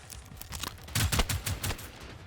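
Gunfire in the Generation Zero shooter game comes as several bursts of quick, punchy shots, loudest in the middle, with no talk over them.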